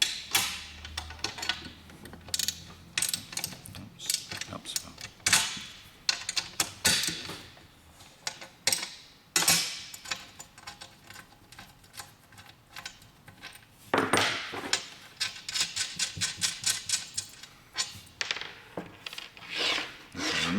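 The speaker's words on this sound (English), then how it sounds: "you need to take the 4 bolts that are around this circle in the middle at the back of the tank, and take them off" Bolts being removed from the back of a PatioMist misting tank, heard as repeated close metallic scraping, ratcheting and rubbing in irregular bursts with brief pauses; no speech.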